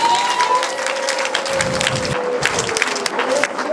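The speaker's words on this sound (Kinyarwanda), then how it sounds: "Yesu mumukomera amashyi menshi." A crowd at a Christian preaching gathering breaks into a short burst of applause and cheering midway through, clapping over a sustained background tone, with a voice heard under it.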